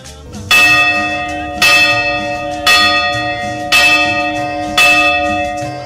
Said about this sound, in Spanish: inició con la sonar de las campanas